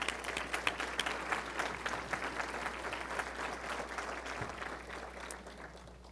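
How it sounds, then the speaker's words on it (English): A large audience at a university library-science convocation ceremony applauds faculty and staff: steady, dense clapping that rolls on evenly for several seconds and sounds a little distant in the hall. "let's give them a big round of applause"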